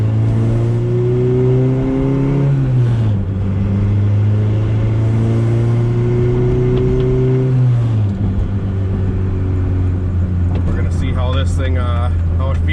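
A turbocharged EF hatchback drives on a street, its engine droning loud and close with rising and falling pitch as it accelerates and shifts, a voice talking faintly underneath.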